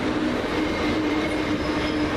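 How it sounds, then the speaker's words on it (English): A Southern Railway electric passenger train rolls steadily into West Norwood station at close range, a continuous rumbling roar with a thin high whine from the wheels. "Just now coming in, the 1418 Southern Railway service from London Bridge to London Victoria."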